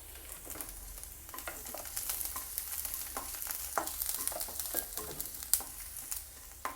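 Garlic sizzling and crackling steadily in hot oil in a pan, a close, continuous fry with occasional stirring scrapes, no voices.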